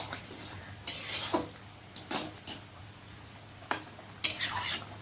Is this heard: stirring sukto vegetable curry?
yes